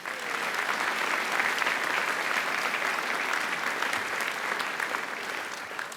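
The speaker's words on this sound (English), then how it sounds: "please, a round of applause for them" An audience at a U.S. Marine Corps birthday ceremony applauds a Marine ceremonial detail, producing sustained, dense clapping that holds steady and eases slightly toward the end.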